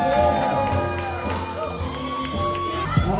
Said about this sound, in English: How about a round of applause for our folks?